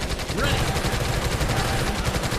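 Rapid automatic gunfire in the video game Elite Forces survival mode, dense overlapping loud shots crackling continuously for a couple of seconds with a voice shouting over it.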